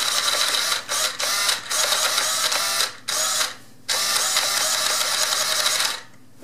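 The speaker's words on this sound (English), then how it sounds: "Can't see it, but the servo is moving." A steering servo in a Losi 5ive T large-scale RC truck whirs in repeated bursts, a high buzzing motor sound that starts and stops in short, irregular pulses close to the listener.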